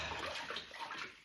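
Dishes, bowls and small plates, being washed in a sink of water, giving a brief, steady wash of splashing and sloshing at close range with no talk.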